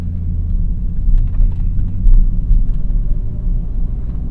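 A BMW M Coupe with its S52 engine drives along a tight back road, giving a close, steady, low engine rumble inside the car with slight swells in loudness.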